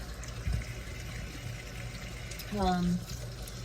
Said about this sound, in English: But you just gently rinse them off.